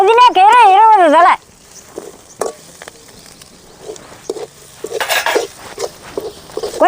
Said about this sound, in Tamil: நல்ல வெங்காயம் செவக்க வணங்கிடுச்சு.